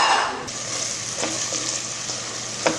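Finely chopped garlic sizzles steadily in a pan with onion and pepper sofrito, a continuous close frying hiss with a few faint utensil clicks and no talking.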